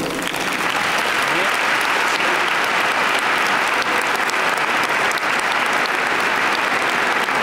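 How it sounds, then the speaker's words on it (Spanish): A large crowd claps in sustained, dense applause inside Almudena Cathedral in Madrid, with the clapping even and reverberant from start to finish. "y damos un aplauso a Carmen."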